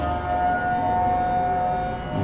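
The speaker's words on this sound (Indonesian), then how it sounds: "ini sirine bro ambal-ambalan" A steady siren holds one sustained tone throughout, loud and continuous, with a low rumbling hum of background noise beneath it.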